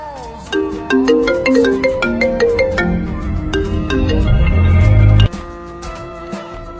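A melodic phone ringtone plays loudly in a repeating pattern of bright tones, building to a sustained chord before cutting off abruptly.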